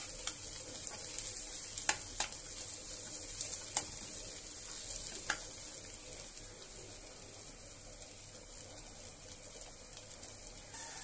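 Taqliya, Egyptian fried garlic and onion, sizzles in a hot pan with a constant close hiss, broken now and then by sharp ticks and crackles as it browns.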